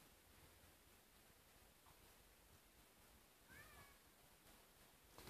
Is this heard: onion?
no